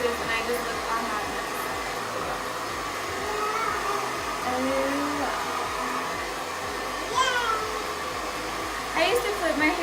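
A hair dryer blows hair dry in a steady, close whooshing drone, while faint cat meows and voices briefly rise over it.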